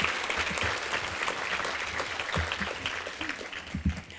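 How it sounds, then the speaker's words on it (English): Audience applause at an awards luncheon, a steady wash of many hands clapping at moderate loudness for the whole stretch, with a few louder individual claps and faint voices mixed in. "please give her another round of applause."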